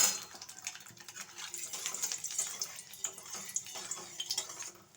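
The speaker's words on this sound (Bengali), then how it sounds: "আপনারা নিশ্চয়ই ভিউয়ার্স বন্ধুরা দেখতে পাচ্ছেন তেলটা একটু ছিটকছে" Rui fish frying in hot oil in a wok (kadai), a steady, close sizzle with dense crackling and sharp spits of splattering oil throughout.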